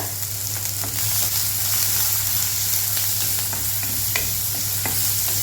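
Onions sautéing in a pan for Karaikudi kara chutney, with a dense, loud, continuous sizzle and light scraping stirs scattered throughout, close up over a steady low hum, no talking.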